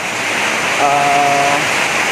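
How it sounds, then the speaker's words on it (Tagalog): Heavy rain pours steadily during a typhoon, a dense, unbroken hiss of falling water that stays loud and even throughout, with a faint tonal hum briefly rising within it. "ang lakas na ng ulan"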